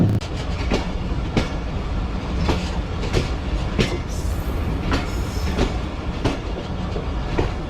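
A Khyber Mail passenger train in Pakistan running on rails, with a steady loud rumble and a regular clickety-clack of wheels over rail joints heard throughout.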